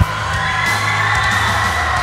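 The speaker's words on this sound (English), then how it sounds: "Look at this crowd going berserk over Marco Harris here in Mantachie." A wrestling crowd in Mantachie goes wild for Marco Harris, a loud, continuous wall of cheering, whooping and yelling that fills the whole moment.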